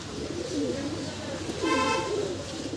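Madrasi pigeons coo in low, rolling calls, one phrase near the start and another partway through, over steady background noise.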